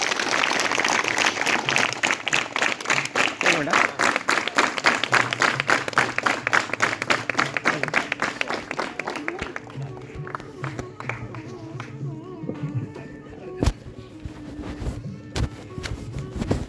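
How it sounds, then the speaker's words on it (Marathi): An audience at a teachers' and students' gathering applauds loudly to welcome a guest, dense clapping that thins into scattered claps toward the end, with a voice briefly audible underneath. "सर्वांनी टाळ्या वाजवून स्वागत करा त्यांचं।"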